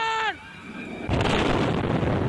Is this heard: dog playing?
no